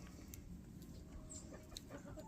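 Blue gamefowl hens clucking softly in a yard, faint and somewhat distant over a steady background, with a few short higher calls.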